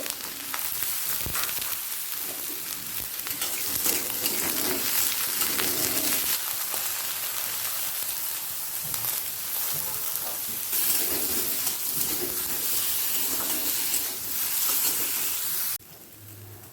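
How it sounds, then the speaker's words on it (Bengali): Brinjal frying with salt and turmeric in mustard oil in a kadai on a gas stove, giving a steady, close, even sizzle that runs without a break for most of the stretch, with no voices. "প্রথমে আমি বেগুনটাকে লবণ আর হলুদ দিয়ে ভেজে তুলে রাখবো"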